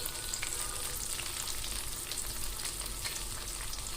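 An egg frying in a pan for egg fried rice, a steady, close sizzle and crackle with scattered spits and pops, continuous and undisturbed throughout.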